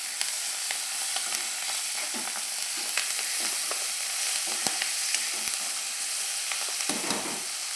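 Cluster beans and spices fry in oil for a curry, giving a close, even crackling sizzle with scattered stirring clatters and a burst of busier stirring toward the end.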